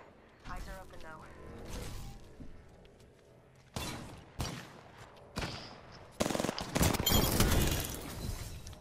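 Scattered gunfire bursts in an Apex Legends match, a few sharp shots then a louder sustained volley near the end, with players speaking between them.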